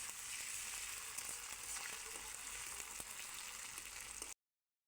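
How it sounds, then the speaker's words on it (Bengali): Chopped onion frying with ginger-garlic paste in a pan for a fish curry gives a steady, close hiss and crackle of sizzling oil with a few faint clicks, then cuts off. "পেঁয়াজের সাথে ভাজা ভাজা হতে থাক।"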